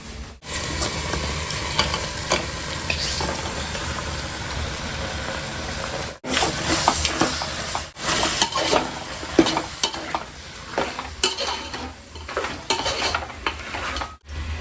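Goat head curry sautés in a pan, steady frying sizzle under repeated scraping and clattering stirs with a utensil, loud and close, with a brief pause midway.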